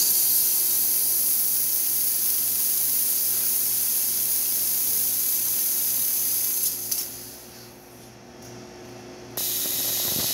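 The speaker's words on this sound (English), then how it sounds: "See, nice strong steam." A Quickmill Anita espresso machine's steam wand hisses loudly and steadily under a low pump hum, then cuts out briefly and surges back on.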